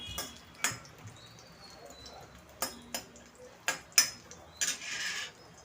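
Cashew and almond slices sauté with spices in a pan, a metal spoon tapping and scraping in short, fairly faint clinks at irregular intervals over near silence.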